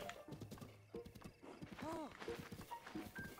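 Horse hooves clip-clopping in Zelda: Breath of the Wild, a steady galloping rhythm mixed with game music, a brief whinny and a voice talking over it.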